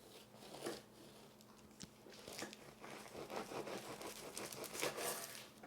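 A knife cuts through a tompouce, a Dutch puff pastry with sugar glaze, giving faint, close crackles and flaky crunches in a soft irregular patter, with no voices.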